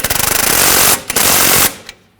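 A rapid-fire pneumatic impact wrench snugs the nut on a BMW 328i front sway bar link, loud rattling bursts that run for about a second and a half, pause briefly, then end with a quick tail.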